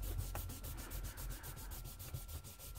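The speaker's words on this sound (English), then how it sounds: "Rub that all out." A rubber eraser scrubs out a pencil drawing on paper in quick, repeated back-and-forth strokes, a soft rhythmic rasping close by with no talking.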